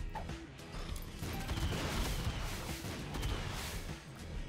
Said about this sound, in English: Them explosions don't seem to hurt me.